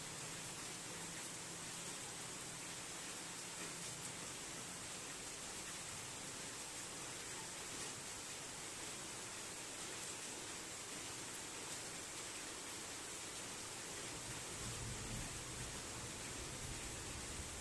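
Rain falls outside on a quiet road during a stormy day, making a steady, even hiss that stays fairly faint and unbroken throughout, with no voices.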